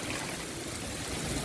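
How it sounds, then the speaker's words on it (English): Heavy rain pours down during a severe June thunderstorm, giving a steady, dense hiss of falling water with no talk. "It's just downpouring out like crazy."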